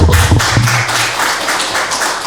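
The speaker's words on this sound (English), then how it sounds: "So we can give them a round of applause." Audience clapping at a graduation ceremony for African leadership programme graduates: loud, dense, steady applause close by, with no voices over it.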